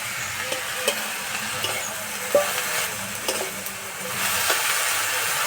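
Fried eggplant and beto greens fry in a pan with a continuous hissing sizzle and light stirring scrapes, growing a little louder toward the end.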